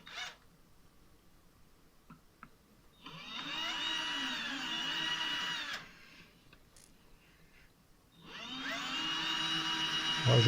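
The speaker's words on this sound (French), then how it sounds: "J'utilise une mèche à bois plate qui est complètement foutue, ce qui explique le temps que je mets à faire le trou" A drill fitted with a worn flat wood bit bores through thin MDF in two loud, close whining bursts of a few seconds each, separated by a quieter pause with small clicks and handling noises.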